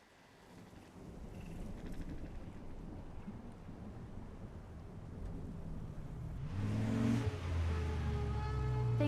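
Car engine hum in the Life Is Strange video game, a steady low rumble that swells toward the end alongside a rising tonal whine, with a thunder-like or rain-like wash mixed into the background.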